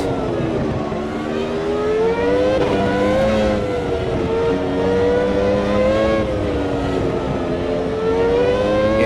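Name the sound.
Formula One race car engine passing, video game 2002 US Grand Prix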